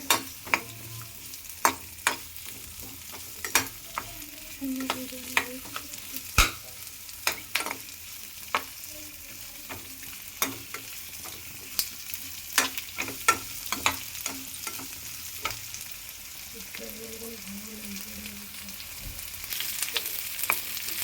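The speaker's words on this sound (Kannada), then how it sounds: "ಇವೆಲ್ಲವನ್ನು ಹಾಕಿ ಹುರ್ಕೋಬೇಕು ಎಲ್ಲ ಸಾಮಾನುಗಳು ಇಂಗ್ರೀಡಿಯೆಂಟ್ಸ್ ಅದನ್ನ ನೋಡ್ಕೊಳ್ಳಿ ಇದನ್ನೆಲ್ಲ ಹುರ್ಕೊಂಬಂದ್ಬಿಡೋಣ ಮಸಾಲೆ ಎಲ್ಲ" Masala ingredients for chicken masala frying in a pan, with a low continuous sizzle and sharp, irregular clicks and scrapes of stirring throughout, no voices.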